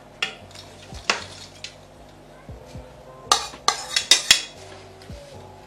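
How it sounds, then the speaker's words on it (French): Green beans tipped into a cooking pot with a utensil, giving a few sharp metallic clinks and clatters against the pot over a quiet kitchen background, with bursts clustered near the end. "Je mets mes haricots verts."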